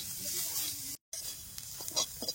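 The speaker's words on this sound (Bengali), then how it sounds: "হলুদটা দিয়ে বেশ সুন্দর করে একটু ভাজে নিছি" Chopped onion, ginger, green chilli and garlic sizzle and hiss softly in a pan after turmeric is added, with light stirring scrapes; the sound cuts out for a moment midway.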